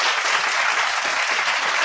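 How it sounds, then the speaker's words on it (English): Conference attendees applaud speakers and a moderator at a central bank digital currency launch, a steady, dense roar of clapping filling the whole moment at an even loudness. "please do give a round of applause for our distinguished speakers and also our moderator"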